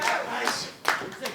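A wrestling crowd claps and cheers at an NWA event, a short burst of loose clapping and rising crowd noise behind a commentator's voice.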